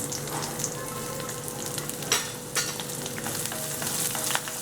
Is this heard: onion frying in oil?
yes